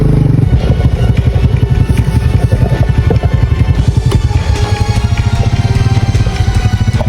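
Motorcycle engine running steadily while riding, a loud close rumble with dense rapid pulsing throughout and no speech.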